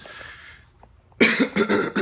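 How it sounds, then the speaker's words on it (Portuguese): A few sharp, loud coughs in quick succession after a quieter, hushed stretch, close to the microphone. "Vocês estão vendo que eu tossi agora?"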